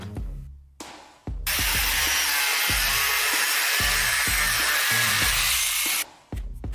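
A plastic pipe being cut lengthwise with a power saw: a few sharp knocks while handling, then a loud, steady, close grinding whine for about five seconds that cuts off abruptly, followed by a couple more knocks, with no talk.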